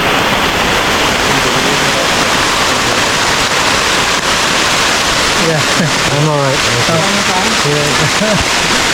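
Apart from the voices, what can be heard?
heavy pouring rain in the Amazon jungle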